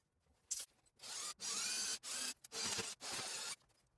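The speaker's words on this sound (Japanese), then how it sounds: "残りの Y 軸と X 軸の取り付けのためのネジ穴をサクッと開けていきます" Drilling screw holes on a milling machine: five or six whining bursts of cutting, each lasting under a second, separated by short pauses, close and clear with no talk.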